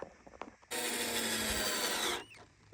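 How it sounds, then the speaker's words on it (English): A power drill drives a screw into the center bar of a wooden gate: one loud, steady whir lasting about a second and a half that stops abruptly, with a few faint knocks before it. "Now he's putting the screws across the center bar, and it'll be ready to set up and attach to the gate."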